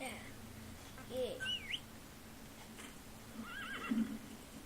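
Whinnying horse calls from D-Horse in Metal Gear Solid V, two short neighs rising and falling over a quiet outdoor ambience with faint bird chirps, moderately distant.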